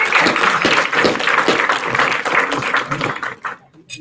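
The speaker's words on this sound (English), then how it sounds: "So let's give everybody a round of applause." Audience at a Republican women's club luncheon applauds steadily for about three seconds, dense clapping filling the room before trailing off into quiet near the end.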